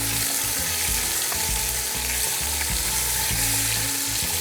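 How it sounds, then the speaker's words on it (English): Chopped onion frying in a pan with browned, sealed meat for an Italian tomato sauce, giving a steady, close, loud sizzle with stirring scrapes throughout and no voices. "So we're putting the onion in, and we cook this until it's translucent."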